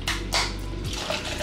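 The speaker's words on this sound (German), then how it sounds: "Dann kommt da erstmal Sojamilch." Soy milk poured from a carton into a cup already holding ice cubes and instant coffee mix, a short close splashing pour with a steady liquid rush, a brief bright burst near the start, no talking.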